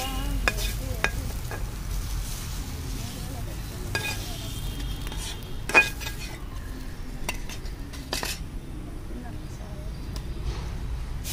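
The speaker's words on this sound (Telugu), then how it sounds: "నేను ఇక్కడ వామాకుతో పాటు కొద్దిగా చుక్క కూరను కూడా వేసి ఫ్రై చేస్తున్నాను" Ajwain leaves and sorrel leaves fry in a pan for a leaf chutney, giving a low steady sizzle broken by sharp clinks and scrapes of a utensil against the pan at irregular moments.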